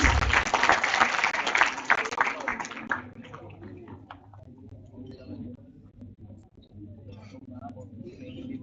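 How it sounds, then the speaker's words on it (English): Conference audience applause at an international conference on industrial transformation, a dense burst of clapping for about three seconds that quickly fades to a few scattered claps and room noise. "Give a huge round of applause, audience."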